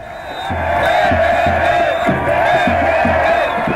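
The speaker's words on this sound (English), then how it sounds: "It's a roar of sound because everyone's so excited and they're singing songs of the revolution" A huge, excited crowd packed into a Cairo square during the revolution roars continuously, with massed voices singing and chanting slogans in a steady rhythmic pulse, loud and dense.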